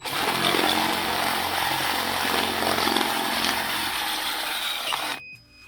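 A power tool enlarging the holes in metal eyelets for a battery kill-switch install on an MR2 Roadster Spyder with the 1ZZ engine, a loud, steady high-pitched whine close up, running continuously before cutting off abruptly near the end.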